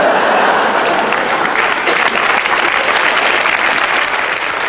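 A concert hall audience at a 2001 comedy show breaks into dense, sustained applause that stays loud and even throughout.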